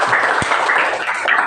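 A classroom group applauds after a student reads out a salt-water experiment result, a steady dense wash of many hands clapping throughout, with no talk over it.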